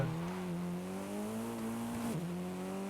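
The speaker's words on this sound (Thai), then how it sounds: "แล้วผมก็ดึงเบรกมือ" A car in the racing game Forza Horizon 5 holds a steady, loud engine drone, with a brief squealing skid and a dip in engine pitch as the handbrake is pulled near the end.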